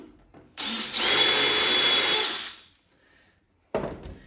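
A drill fitted with a countersink bit grinds into material in a close, steady burst lasting about two seconds, then falls silent before a short second burst starts.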